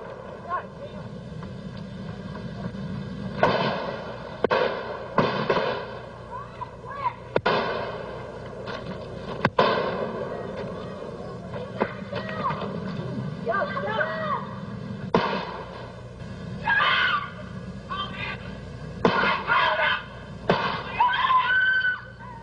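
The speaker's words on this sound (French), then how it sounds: "les deux hommes échangent 11 coups de feu en moins de 22 secondes" Two men on a road fire about eleven gunshots at each other in under 22 seconds during a dispute. Sharp, irregular bangs are spread across the stretch, with raised voices and commotion between and under them.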